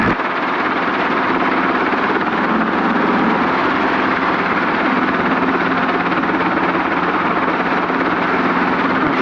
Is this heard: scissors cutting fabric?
no